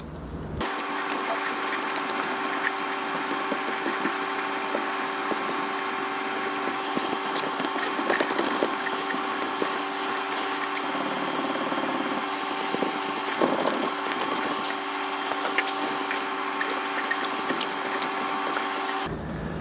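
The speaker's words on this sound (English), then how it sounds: "I'm going to do some more hand compounding." Scratches in the paint of a 1966 Ford 427 Galaxie R Code are worked out by hand compounding, giving a steady, faint rubbing hiss with small clicks and a constant background hum, no voices.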